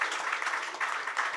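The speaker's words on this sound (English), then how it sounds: "Round of applause." Audience applause after an answer at a research report launch event, steady moderate clapping throughout the brief moment, no voices over it.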